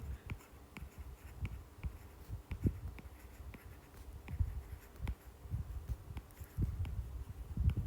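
A teacher writing on a classroom board during a math lesson, soft irregular tapping and scratching strokes, faint and close, with no talk.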